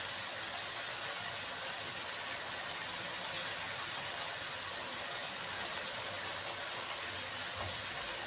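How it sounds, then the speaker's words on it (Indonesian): Water rinsing leftover spices out of a stone mortar (cobek) while cooking beef lung sambal; a quiet, steady trickling and splashing that runs continuously without pause. "Bumbu yang ada di cobek ini aku bersihin sama air ya."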